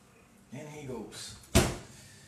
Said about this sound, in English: oven door.